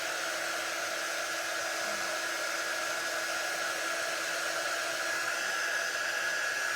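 A hair dryer blowing steadily on fabric for a sewn apron, a continuous even whooshing whine with a faint tonal hum, close and uninterrupted, with no talking.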